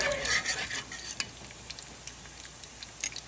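Garlic and plenty of butter sauté in a pan, a soft steady sizzle with a few stirring scrapes and light clinks, fairly quiet throughout.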